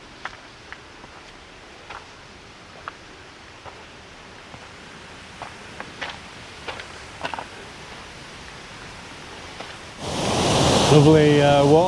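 A rushing waterfall in the Zauberwald forest near Ramsau, Germany, faint at first under scattered footsteps and rustling, then swelling suddenly into a loud, close roar of torrent water in the final seconds.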